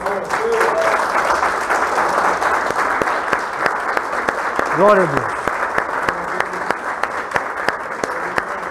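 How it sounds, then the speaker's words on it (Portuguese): A church congregation claps for Jesus, loud continuous applause filling the room while a voice calls out and cheers over the clapping. "Palmas para Jesus."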